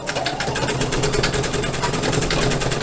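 An embroidery machine stitches the quilted portion of a mini composition book cover in the hoop, a close, fast, even needle clatter running steadily throughout without speech.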